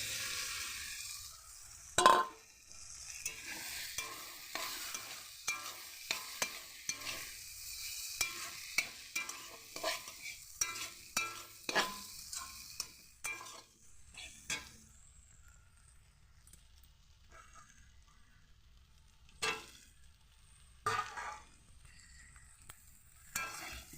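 Soybeans tipped into a fried spice paste for a soybean and potato curry, followed by repeated stirring scrapes and clinks of a utensil against the pan over a soft sizzle, fairly quiet and irregular.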